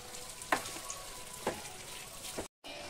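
Chicken pieces frying in oil for chicken pickle, a steady soft sizzle with a few brief stirring scrapes and clinks over it.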